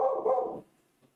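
Dogs barking nearby indoors, a quick burst of two or three loud overlapping barks that cut off abruptly, followed by near silence with a faint trailing yip.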